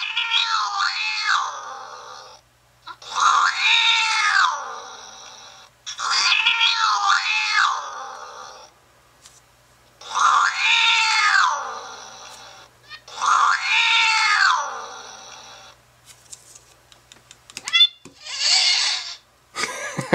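Synthetic angry cat yowls from a phone app play loud and close, five long rising-and-falling caterwauls separated by pauses, followed by a few shorter squeals.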